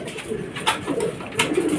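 A racing pigeon coos repeatedly in soft, rolling bursts at its loft on arrival from a club fun race, close by, with faint background rustling.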